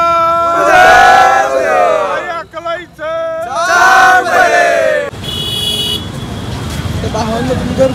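A large crowd of pilgrims at the Mahakumbh in Prayagraj chants slogans in loud unison bursts, the voices rising and falling together, then gives way to a dense wash of crowd murmur with horns and traffic.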